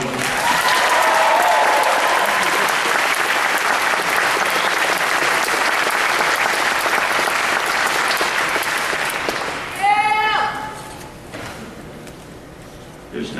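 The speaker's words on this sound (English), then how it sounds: "Give her a round of applause." Loud, sustained applause from a large audience fills most of the stretch, then breaks off, leaving scattered claps and a brief sharp sound.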